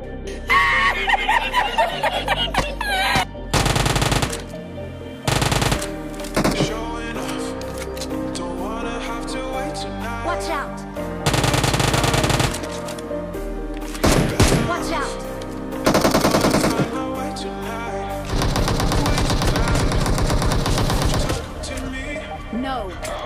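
Rapid automatic gunfire in Battlegrounds Mobile India comes in loud, repeated bursts separated by short pauses, with voices and laughter mixed in.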